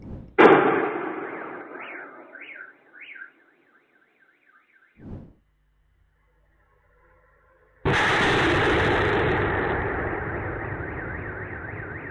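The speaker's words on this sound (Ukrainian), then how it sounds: "місцеві почули потужні вибухи" A sharp, powerful blast from a drone attack sets off a warbling car alarm, a second dull boom follows after a silence, then a long heavy roar takes over.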